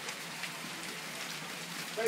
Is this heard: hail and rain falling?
yes